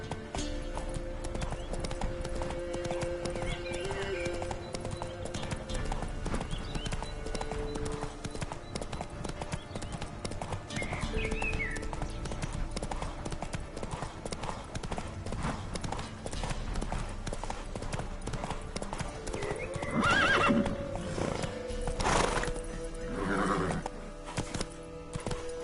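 Hooves of Roach, the horse in the Witcher 3 video game, clip-clop steadily at a gallop over a continuous game soundtrack, with a loud whinny near the end.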